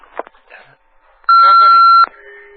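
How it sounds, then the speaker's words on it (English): An answering machine gives one long, loud, steady electronic beep after a faint, brief stretch of muffled sound, then the line falls quiet. "So leave a message after the beep, and we'll get back to you as soon as we can."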